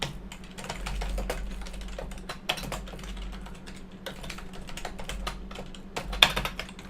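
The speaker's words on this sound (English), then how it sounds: "you'll notice when I start typing" Rapid, uneven clicking of keys on a computer keyboard, close by, with bursts and brief pauses over a low steady hum.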